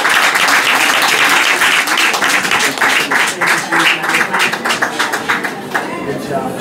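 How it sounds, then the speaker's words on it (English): A school luncheon crowd claps loudly and steadily for two student presenters, a dense sustained round of applause that thins slightly toward the end, with voices cheering and talking faintly underneath. "Round of applause for Miss Mariana and Sean."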